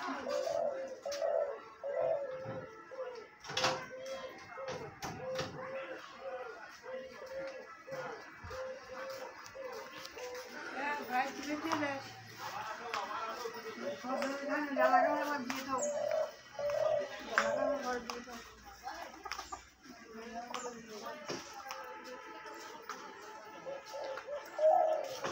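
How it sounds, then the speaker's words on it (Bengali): Captive spotted dove with a deep, thick voice calling in repeated low coos over about twenty-five seconds, fairly near, with someone talking intermittently underneath and a faint dog bark. "এই যে দেখেন ডাকতেছে, মোটা গলার পাখি, অনেক মোটা গলা"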